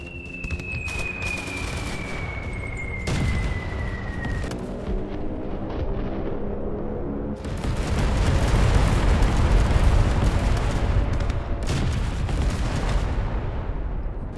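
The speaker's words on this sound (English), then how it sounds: "We will call artillery" Artillery shells explode across a World War II beach landing in Beach Invasion 1944, deep rumbling booms layered over continuous distant gunfire, swelling louder midway and rolling on without pause.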